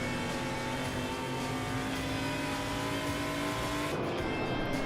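A race car engine in the sim racing game Assetto Corsa at the Road America circuit, a loud, steady droning whine held close throughout, with a shift in pitch near the end.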